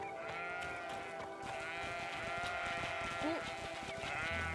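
Small goats in the Greedfall video game bleat in quick wavering cries over steady ambient music and a low rumble, moderately faint, with a brief voice exclamation.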